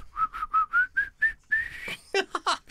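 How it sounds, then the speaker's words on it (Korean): A person whistles a short run of evenly spaced notes, then a longer held tone and a few quick sliding chirps, close and clear. "휘파람 불죠"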